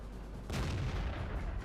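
A single heavy 100mm cannon shot from an AMX AC 46 tank destroyer in World of Tanks, a loud booming blast with a rumbling tail that stays up in the low end after the hit.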